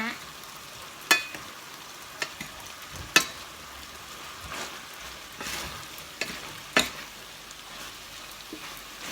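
Chinese kale with fatty beef being stir-fried: a steady close sizzle and hiss throughout, broken by a few sharp scraping clacks of a utensil against the pan, with no talk.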